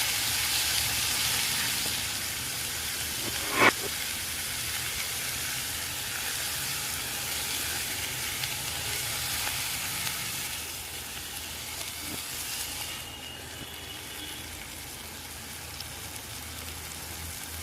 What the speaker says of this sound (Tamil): தக்காளி நல்லா வதக்கி விட்டுக்கலாம்.